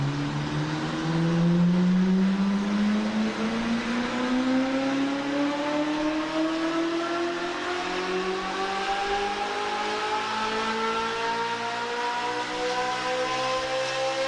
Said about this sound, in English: It's flat plane V8, so very high pitched when compared to like an American or a cross plane V8.